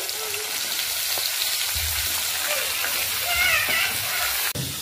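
Marinated chicken, with cumin seeds and a chilli, goes into hot oil in a pan and sizzles in a steady hiss for a few seconds, ending with a sharp clatter of a utensil.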